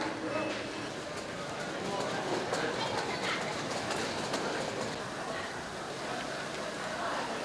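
A Qinghai-Tibet line passenger train rolls through Xi'an, a continuous far-off rumble and rail clatter with faint wheel noise and light bird sounds, steady and moderately quiet throughout.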